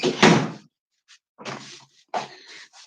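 A house door pushed shut indoors, a loud close at the start followed by a few softer knocks and latch sounds, with no talking.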